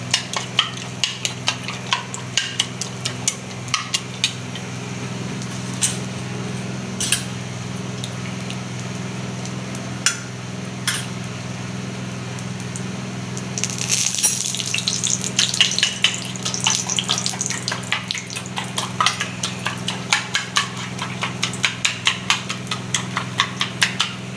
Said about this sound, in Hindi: इसमें अंडा फ्राई हो रहा है